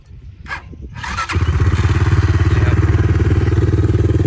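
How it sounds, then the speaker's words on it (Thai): A Ryuka Infinity 250cc motorcycle starts with a few clunks and then settles into a loud, close, steady idle with a rapid even thumping pulse and no talking. "ลองฟังเสียงเครื่องเลยครับผม"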